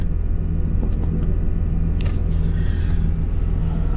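A 1995 Ford F-150 pickup engine rumbles at idle inside the cab, a deep steady low drone that holds even throughout, with no talking.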